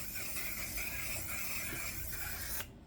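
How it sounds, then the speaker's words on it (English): An aerosol can of makeup setting spray hisses in one continuous steady burst for a couple of seconds, close and even, then cuts off abruptly. "I never used an aerosol can for setting spray."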